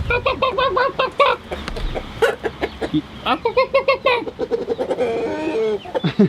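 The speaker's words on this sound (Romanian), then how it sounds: "Hai să vedem ce face găinile mele, pentru că de mult nu le-am văzut pe dânsele." Several farmyard chickens clucking close by in quick, repeated bursts of calls, with a person talking now and then over them.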